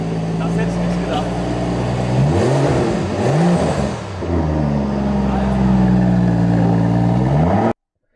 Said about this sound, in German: Ja, mach mal das Auto an, oder? Ist die Klappenanlage schon auf?